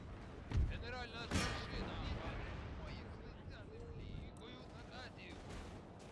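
Howitzer artillery fire in a video game depicting a 1740 battle, with loud booming blasts near the start and around the middle, followed by continuous rumbling battle noise and scattered gunfire, under a narrating voice.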